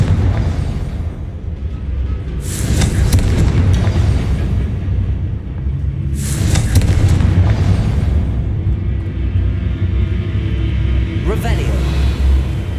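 Explosions from the Confringo blasting spell in Hogwarts Legacy: two loud booming blasts a few seconds apart over steady rumbling combat ambience, with a sharper burst near the end.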